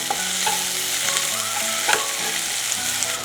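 Half an onion frying in a pan, the base for spinach and dried-tamarind lentils, with steady sizzle and crackle and a few soft stirring knocks, close and continuous with no talking.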